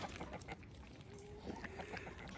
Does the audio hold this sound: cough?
no